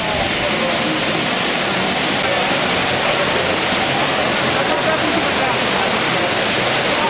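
A fountain in a square in Genoa, its water splashing in a loud, continuous rush from nearby, with a voice speaking over it.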